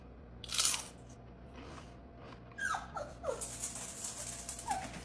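Crunchy bites into a crockpot dish topped with cornflakes, a sharp close crunch followed by several more chewing crunches, with dog whimpers mixed in.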